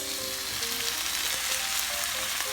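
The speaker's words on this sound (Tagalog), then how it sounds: "Ilagay na po natin ang kamatis." Tomatoes fry with garlic and onion in a pan, a dense, steady sizzle at close range with faint stirring noises underneath.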